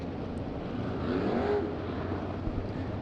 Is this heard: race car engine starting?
yes